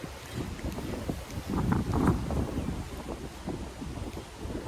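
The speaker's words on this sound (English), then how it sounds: "It's quite windy over here" Wind buffets the microphone in a steady low roar with gusty surges, close and continuous, along with faint water sounds outdoors beside a pond.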